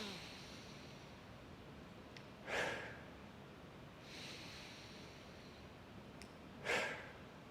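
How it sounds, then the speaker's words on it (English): Breathing during an exercise repetition, with two distinct forceful breaths several seconds apart and a softer breath between them, close and faint over a low room hiss. "I'm just going to actually breathe out on the way up. Then inhale as I go down."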